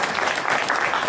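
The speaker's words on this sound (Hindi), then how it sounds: "वैसे अगर आप सबका आदेश हो तो 4 पंक्तियां इनको सौंप दूं, तो तालियां दे बजा करके मुझे आदेशित करिए" Dense, loud burst of applause from the audience at a large Hindi poetry gathering (kavi sammelan) in Nagda, a continuous wash of many hands clapping at once, close and full.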